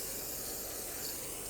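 Steady broadband hiss of brake parts cleaner spray on a 1999-2007 GMC Sierra's front brakes, continuous and fairly quiet, with no voices.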